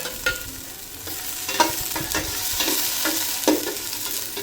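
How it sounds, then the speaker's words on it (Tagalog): Ginger and onion sizzle loudly in a thin pot as they're sautéed, a dense close hiss broken by several sharp stirring scrapes and clacks. "ilagay na natin yung ating luya at sibuyas"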